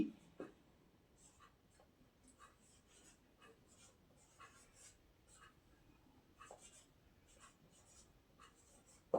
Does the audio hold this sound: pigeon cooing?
no